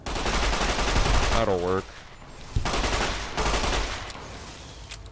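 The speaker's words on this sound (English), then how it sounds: "Here, 9mm SMG." Bursts of 9mm SMG gunfire in Fallout: New Vegas, loud and rapid, with a pause in the middle where someone speaks briefly, then more firing that fades out.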